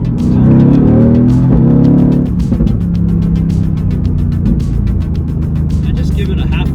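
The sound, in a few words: Mercedes-AMG GT R engine revving and shifting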